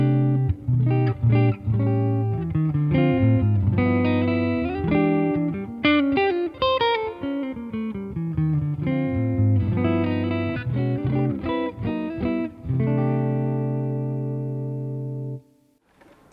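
Electric guitar with a clean, straight-ahead jazzy tone playing a flowing single-note and chordal phrase, warm and sustained, ending on a long ringing chord, solo with no talk.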